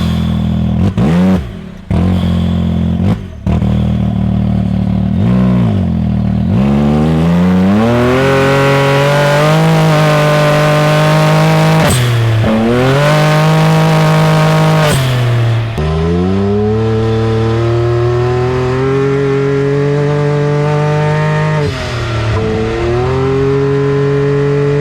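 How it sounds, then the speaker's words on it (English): A loud, unmuffled Can-Am ATV engine with a straight pipe and a loud blow-off valve revs up and down repeatedly, rising pitch sweeps with sharp bursts and pops between throttle blips, close by. "it's just a straight pipe. There's no muffler, and this blow-off valve is loud."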